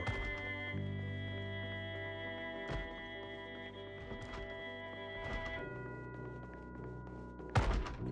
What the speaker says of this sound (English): That's a zombie banging on the door